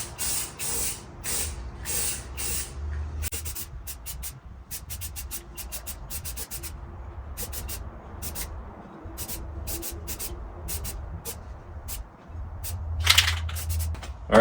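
Aerosol spray can coating brake drums black on a Herbie car, delivered in repeated short hissing bursts of varying length with pauses between, close by, over low background rumble.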